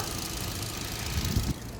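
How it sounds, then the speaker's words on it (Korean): A 2014 Chevrolet Cruze 1.8 idles in its engine bay, a steady low hum close to the listener with a brief louder bump near the end. "엔진룸 소리는 여기까지 들었고"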